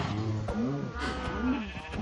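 Sheep bleating in the Minecraft video game, several overlapping wavering bleats in quick succession over a steady background hum.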